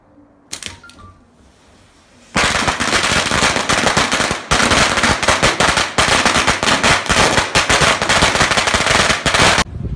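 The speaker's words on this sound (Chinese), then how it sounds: "放鞭炮啊，这样放" A short lull with a few faint pops, then a long string of firecrackers bursts loud and close in a rapid, dense crackle that runs nearly to the end with only brief gaps.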